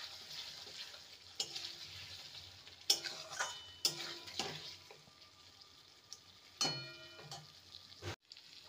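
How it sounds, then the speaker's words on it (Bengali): Fried potato pieces stirred with spices in a pan, intermittent clattering scrapes and knocks of a spatula over a faint low sizzle, close, quiet and without talk. "ভালো করে মশলার সাথে নেড়ে নেব।"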